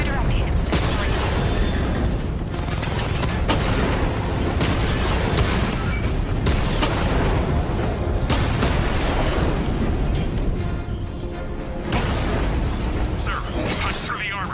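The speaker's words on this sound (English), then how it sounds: "Your 60mm cannon will penetrate these heavily armored units." Tank cannon fire in Batman: Arkham Knight, 60mm rounds against heavily armored units: booming blasts and bursts over a dense wall of mechanical rumble and clanking, with voices talking in places.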